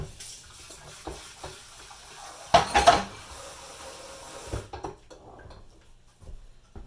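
A bowl being rinsed out with running water, a brief splashing burst in the middle of a quiet kitchen, with light clinks of dishes before and after.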